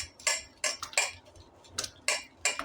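A whisk beats ghee with ice in a bowl for ghewar batter, sharp metallic clinks and scrapes striking in an uneven rhythm, close and fairly quiet.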